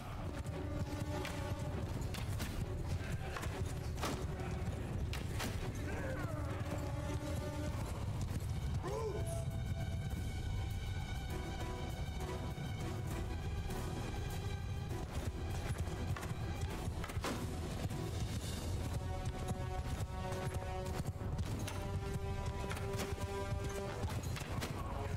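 Horse archers gallop through enemy lines in the Mount & Blade II: Bannerlord video game, a steady run of hoofbeats under game music and battle noise throughout.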